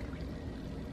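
Milk pours from a bottle into a bowl of cereal as a continuous, full splashing stream, close and steady throughout, with no talking.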